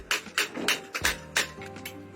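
A hammer strikes a metal punching tool to pierce holes in cardboard design cards for Banarasi sari weaving, sounding as about eight sharp, fairly regular taps, loud and close with no talking.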